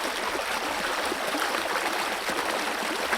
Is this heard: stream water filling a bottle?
yes